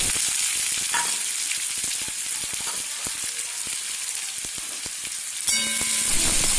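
Chopped onion frying in hot mustard oil with dried red chili and black cumin seeds, a dense, loud, continuous sizzle with light crackles, close up and without speech.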